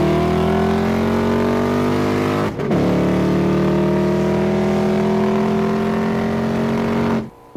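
A 1968 Mustang Fastback with a supercharged Coyote engine accelerating hard, a loud, near roar climbing in pitch, dipping briefly at a gear change, then climbing again before cutting off abruptly.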